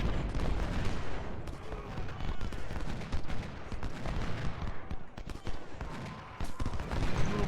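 Musket volleys crackle through a Civil War battle in the strategy game Ultimate General: Civil War, a dense, continuous stream of overlapping gunshots and booms with no pauses.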